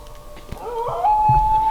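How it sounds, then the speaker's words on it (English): Australian wild dogs howling in bushland during a deer hunt, a drawn-out rising wail that steadies into a sustained tone, moderately close and heard alone over quiet background noise. "Wild dogs are coming all around us."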